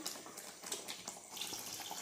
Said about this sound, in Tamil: தேவையான அளவு தண்ணீர் சேர்த்துக்கலாம்.